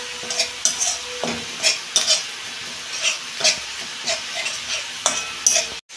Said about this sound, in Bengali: এইটা আমি ভালো করে কষাবো যতক্ষণ না তেল ছাড়ে